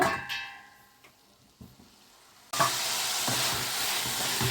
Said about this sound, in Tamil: நல்லா கிண்டி விட்டுட்டே இருங்க ஃப்ரெண்ட்ஸ். தக்காளி, வெங்காயம், பச்சை மிளகா, பூண்டு இது எல்லாமே சேர்ந்து நல்லா வதங்கணும்.